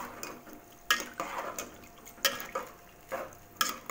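Meat curry stirred in a pot with whole garam masala, cumin, crushed coriander and turmeric, giving repeated scraping, clinking strokes at an uneven rhythm, close by and moderately loud, with no voices.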